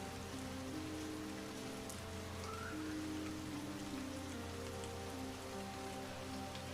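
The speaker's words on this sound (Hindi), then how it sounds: "तभी बारिश और भी ज्यादा तेज हो जाती है।" Heavy rain falls in a steady, even hiss of countless drops, quiet and unbroken, with faint sustained tones underneath.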